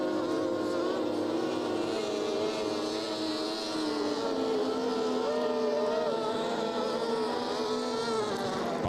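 Racing boats with Mercury six-cylinder engines in an NBRA boat race at Jacksonville, Illinois, a steady high droning engine whine heard from a distance for the whole stretch.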